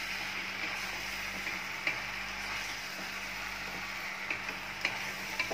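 Chopped fenugreek is stirred into peas, potato and tomato in a hot pan, a steady soft sizzle broken by a few light clicks of the spoon against the pan, with no voices.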